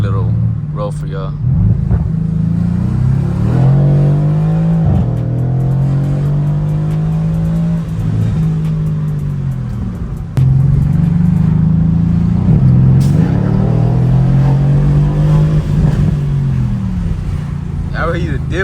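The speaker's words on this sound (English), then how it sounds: "We just got the mufflers cut" A Mercedes C63S with its mufflers cut off drives past and revs, giving a loud, raspy V8 engine note that rises and falls through repeated accelerations, with a brief tire squeal and occasional talk.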